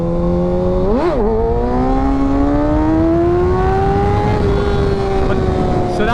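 A 600cc sportbike engine revs during a wheelie, with a sharp throttle blip followed by a long, steadily rising engine whine, loud and close with wind rush throughout.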